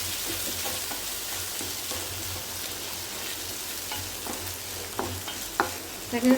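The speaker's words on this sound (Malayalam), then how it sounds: "ഇനി ഒരു ചെറിയ രണ്ട് സ്പൂൺ തേങ്ങയും കൂടി ഇതിനകത്ത് ചേർത്തൊന്ന് നന്നായിട്ടൊന്ന് മുരിച്ചെടുക്കാം" Grated coconut sizzles softly as it roasts in a pan while a spoon stirs and scrapes, with a few sharper knocks near the end.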